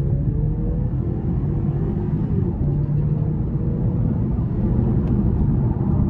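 A BMW 530xi with a four-cylinder turbo under hard acceleration, a steady dense low engine and road rumble heard from inside the cabin, continuous and loud without talk.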